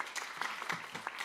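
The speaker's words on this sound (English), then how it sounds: "And you can applaud, obviously." An audience at a panel discussion on cultural diversity claps, a short burst of close, fairly soft applause from a modest crowd lasting just over a second.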